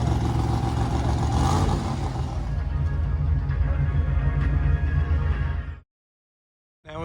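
Bright red custom car engine running at the Goodguys Nationals car show in Columbus, Ohio: a loud, close, rumbling idle that swells and revs for several seconds, then cuts off abruptly to silence before a brief return.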